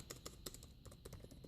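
Soft, fairly quiet typing on an ASUS Zenbook UX305FA laptop keyboard, a steady run of light key clicks at close range with no talk over it.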